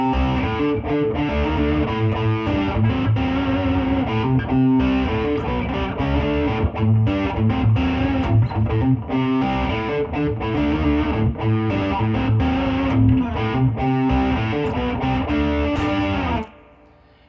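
A distorted electric guitar plays a riff using hybrid picking, with pick and fingers together. It runs loud and steady for about sixteen seconds with dense, driving chords, then cuts off abruptly.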